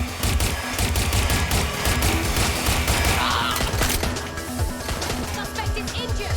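Gunfire in Watch Dogs: Legion, a dense continuous fusillade of rapid shots with booming impacts and a low rumble, sustained loudly throughout with a brief in-game voice or effect in the mix.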